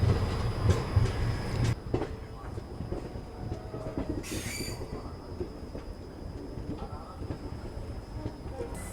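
Passenger train with hybrid LHB coaches on an Indian express service, heard from inside with steady rumbling wheels on the rails, clickety-clack joints and a brief hiss partway through, moderately loud throughout.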